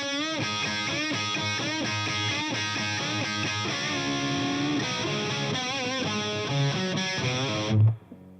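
Overdriven electric guitar runs through the solo, a continuous melodic lead of bends and quick note runs, loud and close, ending with a final low note and sudden cutoff.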